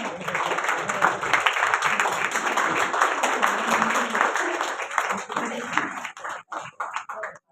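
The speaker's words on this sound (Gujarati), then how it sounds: "પ્લીઝ જોરદાર તાળીઓ." Steady applause fills an award ceremony hall for a women's achievement award, with many hands clapping continuously for about six seconds before thinning into scattered claps at the end.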